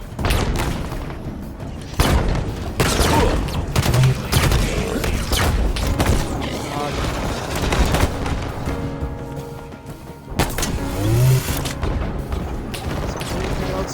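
Hunter enemies firing weapons in different modes inside a video game: dense, loud volleys of shots and booming impacts run almost continuously, with sharp bursts near the start and again late on, under a busy battle soundscape.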